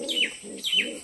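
Pigeons being caught give two short chirping calls over a soft low cooing murmur, close by and fairly quiet, with no talk.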